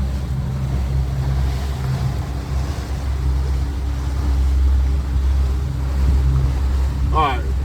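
Coast Guard boat FB60 motoring on a sector search course, a steady low engine drone with wind and water rush throughout, loud and close, and a voice talking over it.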